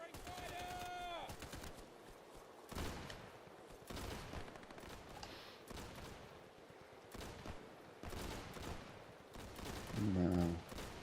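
Gunfire in the video game Easy Red 2 sounds in repeated sharp bursts, some close and loud, others more distant, scattered across the scene with occasional voices in between.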